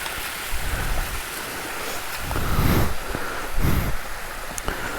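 Steady rushing water of a waterfall on a Megamalai hillside, a dense broadband roar with low surges swelling and easing, close and continuous with no voices.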